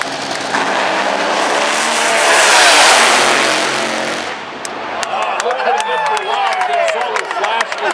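A drag race car roars past on a run at a Pomona, California drag strip, a loud, broad engine blast swelling and fading, followed by crowd noise, announcer-style talk and scattered clapping.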